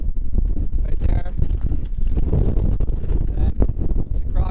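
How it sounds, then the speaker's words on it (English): Strong 40 to 45 mph mountain wind on an open Adirondack ridge in the Santanoni Range, loud rumbling gusts buffeting the microphone continuously, with a voice talking over it. "40 to 45 mile per hour winds, so not really a surprise."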